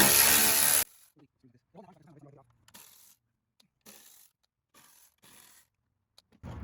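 Small 1/4 inch screws being taken off a 2013 Dodge Avenger 2.4 during radiator replacement: a loud burst of ratcheting, then faint scattered clicks and taps from the tool, with quiet voices between.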